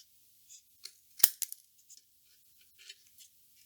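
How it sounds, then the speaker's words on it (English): Scissors trimming a plastic model kit piece during a custom conversion build, a few close, crisp snips with one sharp cut standing out among lighter clicks and small handling sounds. "basically we're just going to trim this up a little bit."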